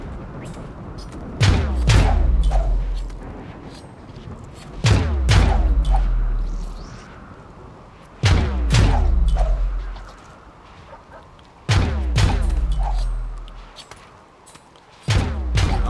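Explosions in RimWorld boom in four heavy, spaced bursts, each a loud crack followed by a rumbling decay and clustered secondary blasts, repeating roughly every three to four seconds.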